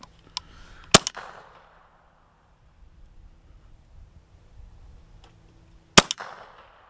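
Two sharp gunshots fired over a chronograph, about five seconds apart, each a loud close crack with a short ringing decay. Fainter clicks and handling noises fall between them.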